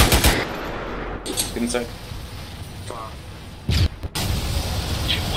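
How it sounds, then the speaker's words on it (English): Bursts of gunfire and explosive reports sound out at the south end of a town during a field training exercise, sharp cracks spaced through the clip over background noise, with a voice speaking briefly. "Some explosive fire to the south end of the town."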